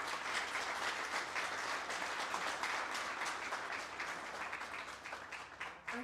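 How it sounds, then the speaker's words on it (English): An audience at a Namibia Professional Hunting Association open session applauds for Ansie Strauss, a dense, sustained round of clapping that holds steady and then thins slightly near the end. "Can we all give Ansie a massive round of applause?"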